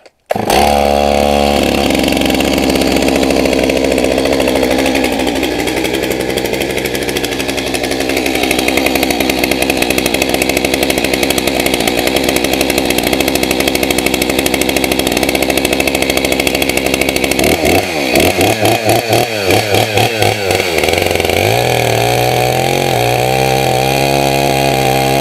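A chainsaw starts up and runs loud and steady for the whole stretch, cutting logs into firewood, with the pitch dipping and shifting near the end as it bites into wood.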